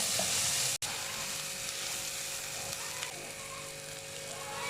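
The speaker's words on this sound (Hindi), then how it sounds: "दो मिनट शिमला मिर्च को भूनना है अरवी के साथ।" Capsicum and taro (arbi) fry in an oil-filled pan, giving a steady, close hiss of sizzling with a few soft stirring touches and no voices.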